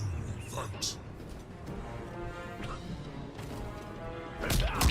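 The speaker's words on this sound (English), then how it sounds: "Oh, just walks up, smashes him with the low." A low attack lands with a sharp smash in a Mortal Kombat tournament match against Sub-Zero, punctuated by several quick impact hits amid game sounds and an excited commentator talking over the action.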